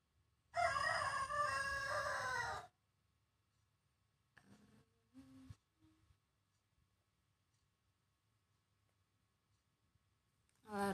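A single loud rooster crow opens the stretch, followed by a few faint clucks or small noises and near silence, with a brief voice at the very end.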